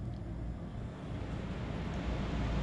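Condensing gas furnace, a replacement unit installed over a bad heat exchanger, starting up and running with a steady low rumbling whoosh of burner and blower that holds even throughout.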